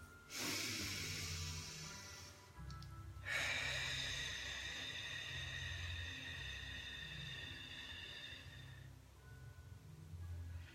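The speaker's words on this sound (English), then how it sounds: "take 6 deep breaths" Two long, slow, deep breaths during a calming exercise, heard up close: a short inhale-exhale followed by a much longer drawn-out breath, airy and hissing, with no talking.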